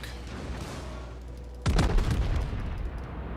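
Ship guns firing at a cruiser in a naval combat game: a single heavy, booming salvo lands partway through, then rumbles and crackles away after a quieter lead-in.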